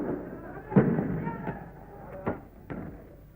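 During the 1969 Cordobazo riots in Córdoba, Argentina, several muffled pops from police tear gas canisters sound at irregular intervals over a murmuring crowd of students, fairly distant.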